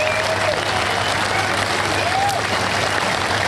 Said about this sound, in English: there is the applause for Rory McIlroy as he enters the arena